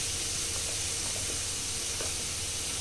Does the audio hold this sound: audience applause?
no